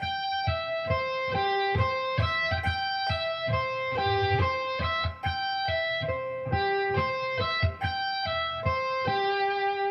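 Distorted electric guitar playing fast repeated picked arpeggio runs in a sweep picking exercise, an even rhythmic rising and falling note pattern, close and fairly loud, with no talk.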